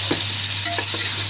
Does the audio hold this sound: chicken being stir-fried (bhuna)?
yes